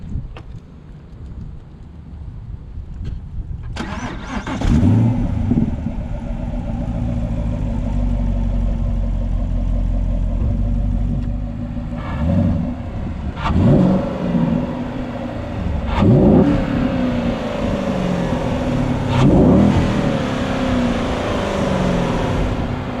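The V8 of a 2017 Camaro SS 1LE cranks and catches with a deep rumble, then settles into a steady, loud idle. Several sharp throttle blips rise and fall over it, heard up close with no talk.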